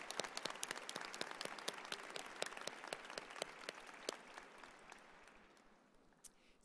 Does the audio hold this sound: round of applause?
yes